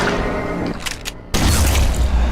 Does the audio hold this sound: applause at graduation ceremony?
no